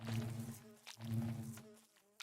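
Amethyst bees in modded Minecraft make a low droning buzz in two long bursts with a short gap between, close and fairly steady, with no talking.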